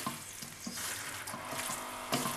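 Beef and zucchini fry in a pan while being stirred, with a steady close hiss of sizzling broken by soft, regular knocks and scrapes of the utensil.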